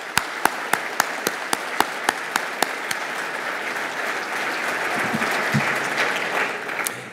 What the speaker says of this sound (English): ladies and gentlemen, please join me in giving all of our sponsors a big round of applause